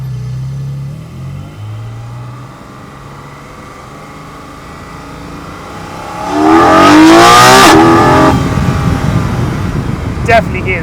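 Car fitted with an aftermarket air filter accelerating hard, a quiet idle giving way to a loud surging intake and engine roar that peaks then eases off.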